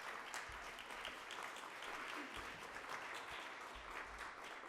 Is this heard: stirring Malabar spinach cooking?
no